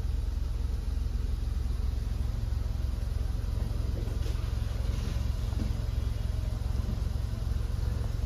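A Ford EcoSport running on a Lovato CNG kit idles with the air conditioning on, giving a steady, even low engine hum with constant fan noise and no talk.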